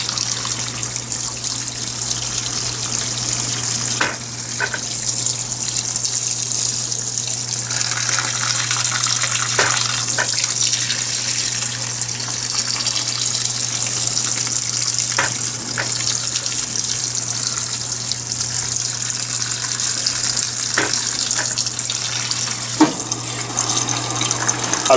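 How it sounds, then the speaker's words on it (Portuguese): An Electrolux Perfect Wash 16 kg washing machine washing household bedspreads sprays a jet of water onto the clothes, a steady rushing gush with occasional faint clicks over a low constant hum. "agora ela está jogando mais água em cima das roupas, né, através do jato."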